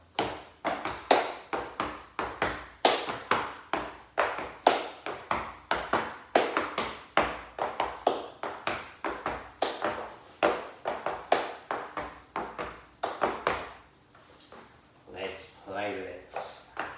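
Rhythmic body percussion, sharp taps and leg slaps in a steady right-left repeating pattern, close up and fairly quiet, with a softer scuffing passage near the end.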